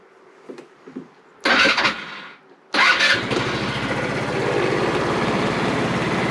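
A rebuilt GY6 scooter engine with a new carburetor cranks briefly, falls quiet, then fires and settles into a steady, close, buzzing idle that holds to the end.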